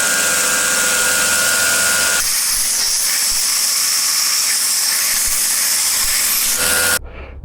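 A 1x42 belt grinder fitted with a 3D printed wheel runs steadily with a loud, continuous abrasive hiss and motor whir. It holds for about seven seconds, then cuts off abruptly.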